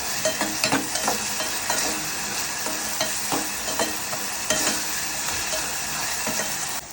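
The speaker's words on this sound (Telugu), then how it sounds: "కొంచెం అల్లం వెల్లుల్లి పేస్ట్ వేసుకుని ఫ్రై చేసుకోవాలి." Ginger garlic paste fried and stirred in a pan for a liver fry, a steady broadband sizzle throughout with repeated scraping stir strokes, close and alone.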